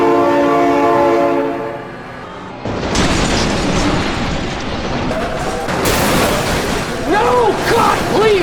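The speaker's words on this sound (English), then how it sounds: "Oh my god, train!" A train in the BeamNG driving game sounds a long horn blast, then rumbles past loudly with crashing, booming impacts; a steady, dense roar fills the scene.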